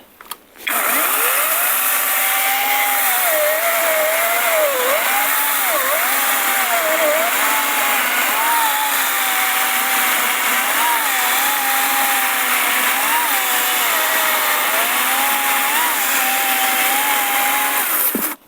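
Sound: battery chainsaw running at first speed

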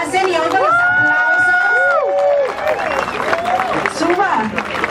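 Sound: applause

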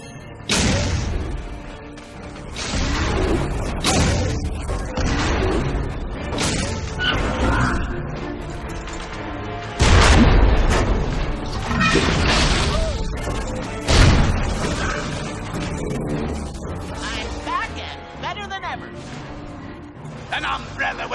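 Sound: cannons firing in Epic Mickey 2 video game

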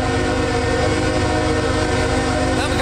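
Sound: CSX coal train passing

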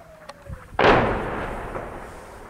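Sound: artillery shelling on a town

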